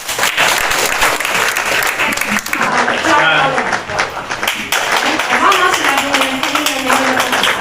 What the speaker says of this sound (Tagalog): Ano, palakpak naman siya.